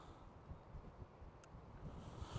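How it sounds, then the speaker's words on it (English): Steady low rumbling wind buffeting a microphone outdoors at Liverpool F.C.'s Anfield stadium, continuous and moderately loud with no clear gusts or other sounds. "it's a bit windy today, guys."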